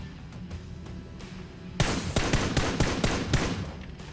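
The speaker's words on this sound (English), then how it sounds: "Tried to make that first shot a headshot, but I think it was more like a neck or chest shot." Video game gunfire from a PUBG shootout: a quiet stretch, then a sudden close volley of sharp rifle shots in rapid succession, loud and punchy.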